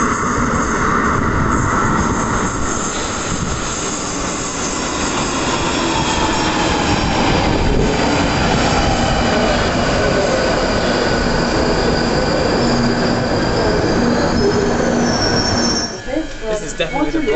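A London Underground train rumbles steadily at close range with a loud, sustained metallic wheel squeal riding over the roar throughout, easing slightly near the end; no talking.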